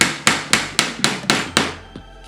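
A hammer drives a nail through thick wood in a workshop, striking in six steady, loud blows about half a second apart, followed by a lighter tap, with no talking.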